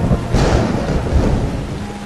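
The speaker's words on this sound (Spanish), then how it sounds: "Se están formando tormentas importantes cerca." Thunder from storms forming near a small Alabama town rumbles loud and continuous with rain, a deep rolling roar filling the whole stretch without any talking.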